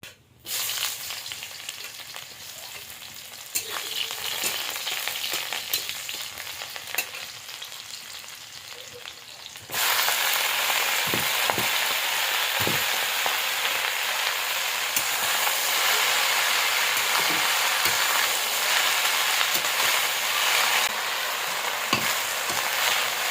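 Malabar spinach cooks down in a pan, releasing its water. A quieter sizzle with occasional stirring clicks jumps to a louder, steady frying hiss partway through, continuing close and alone.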